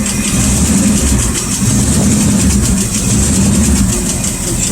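A rat rod car engine idles steadily while warming up, a loud continuous low rumble with an even, unchanging throb throughout.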